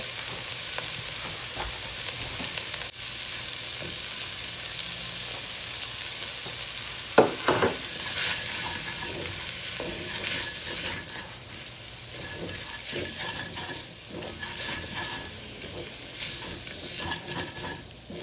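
Beef for stew sautéing in a pot, with a continuous bright sizzle and occasional scraping stirs, close and steady for the whole stretch with no talking.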